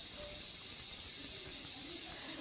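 A pressure cooker cooling after cooking a jackfruit curry lets out a steady, faint hiss of escaping steam that stays even from start to finish.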